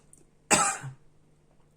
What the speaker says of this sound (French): j'ai l'encens qui me fait tousser